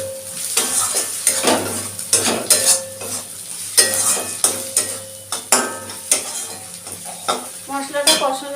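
Garlic, ginger and spices sautéing in a pan, a loud close sizzle with frequent metal spoon scrapes and clanks against the pan throughout, no talking.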